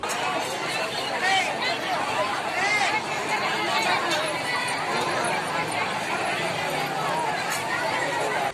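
Dense babble of a large crowd of pilgrims gathered at a Ganga ghat in Mithila, Bihar during a lunar eclipse, a steady wash of many overlapping voices with some shuffling footsteps, unbroken throughout.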